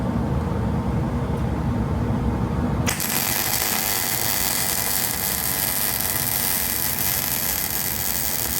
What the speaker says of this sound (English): And we weld it up. Watch your eyes.